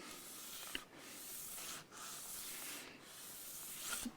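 Sandpaper rubbing back and forth across an acoustic guitar saddle during a Yamaha APX600 setup, a steady close scratching broken by three brief pauses, fairly quiet and without speech.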